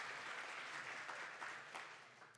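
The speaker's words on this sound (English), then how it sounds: "give yourselves a round of applause for really rising to the occasion" An audience at a university's diamond jubilee gala dinner claps in a brief, steady burst of applause, moderately distant and softening slightly toward the end.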